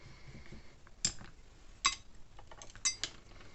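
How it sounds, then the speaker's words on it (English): A watercolour brush is rinsed in a glass water jar. It makes a few sharp, quiet clinks against the jar, spaced about a second apart, in a still room. "Give that brush a bit of a rinse off."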